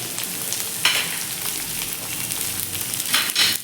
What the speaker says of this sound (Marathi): आता आपण हा बारीक चिरून घेतलेला कांदा आहे तो देखील यामध्ये घालून घेऊयात